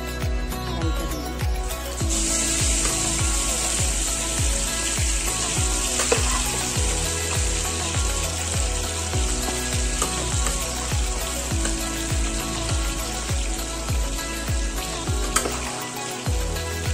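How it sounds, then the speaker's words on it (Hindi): Chicken pieces fry in a pan for dum biryani, with a loud, steady sizzle and crackle and a regular repeating scrape of stirring throughout. "ज़्यादा इसको फ्राई नहीं करना है, 5 मिनट लाइट में फ्राई कर लेंगे।"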